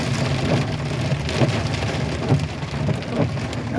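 Heavy rain pours steadily during a nighttime thunderstorm, heard from inside a new truck on a flooding road, a dense continuous roar with low rumbling swells underneath and no talking.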